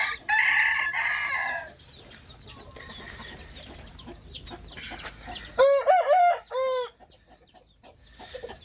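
Roosters in a Turkish backyard coop clucking and then crowing, several loud, close cock-a-doodle-doo calls arriving in quick succession after a stretch of quieter chatter and background bird noise.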